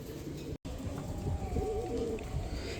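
A pair of fawn shorting pigeons cooing close by: low, steady coos over a soft background hum, broken once by a brief silent dropout.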